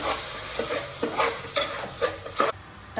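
Chopped tomatoes with ginger garlic paste and salt sizzle in a pan as a spoon stirs them in quick repeated scrapes, about a half-second apart, close up over a low frying hiss.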